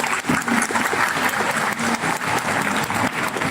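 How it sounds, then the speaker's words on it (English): Dense, steady applause from a large crowd at an English speaking competition, close and loud, continuing without a break. "Please give Shui Town a big round of applause"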